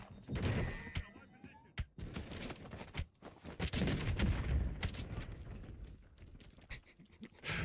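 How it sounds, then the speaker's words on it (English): Chaotic bursts of explosions and rapid gunfire crackle through a dense, loud Black Ops 7 game soundscape, with sharp blasts punctuating a constant rumble. "Explosions going off and everything everywhere."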